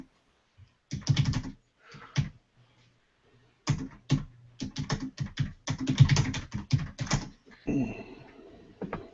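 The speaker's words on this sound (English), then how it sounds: "God, you and Richard are just going to potato chip your keyboards." Two people typing on computer keyboards in a casual home hangout, rapid bursts of clattering keystrokes that start and stop in irregular runs, close and crisp, with brief quiet gaps and a few faint voices near the end.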